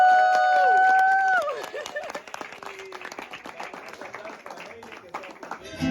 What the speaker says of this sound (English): Haley, clap to her.